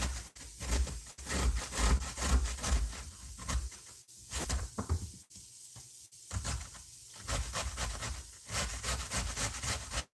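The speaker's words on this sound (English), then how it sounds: "I need to grate the apples" Apples being grated by hand on a kitchen grater, a steady rhythmic scraping and rasping with repeated strokes, fairly close and soft, with no talking.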